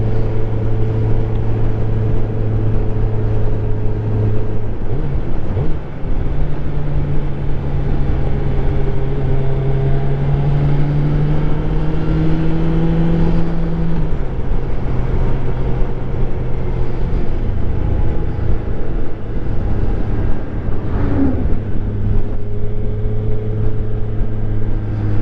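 Suzuki Hayabusa motorcycle on an open road, a steady engine drone with rising and falling harmonic sweeps as the throttle opens and gears change, under constant wind rush, with no talk.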